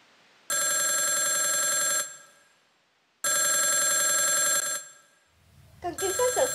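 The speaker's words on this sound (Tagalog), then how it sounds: "Kang kinsa sa cellphone doon ay?" A cellphone rings loudly indoors in two long electronic ring bursts separated by a pause, with a third ring starting as clattering noise begins.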